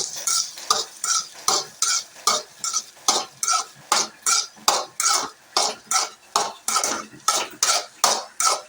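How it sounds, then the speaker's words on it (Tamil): A spoon stirs and mixes cooked rice in a pan while making egg rice, giving a steady rhythm of scraping, clinking strokes repeated about twice per second, close and fairly loud with no talking. "இதை நல்லா மிக்ஸ் பண்ணிக்கலாம்."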